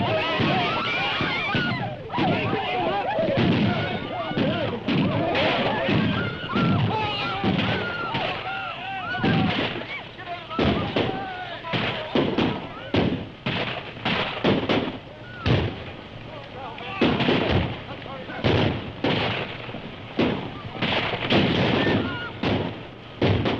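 Gunfire during an Indian attack on settlers in a 1932 frontier film serial: repeated sharp shots crack one after another over about twenty seconds, loud and near, with shouting voices between them.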